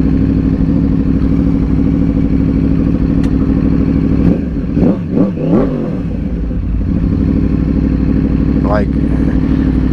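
A 2009 Yamaha R1 sport bike idles loudly with a deep, steady exhaust rumble echoing inside a tunnel, then blips through several quick sharp revs midway before settling back to idle, with a brief voice near the end.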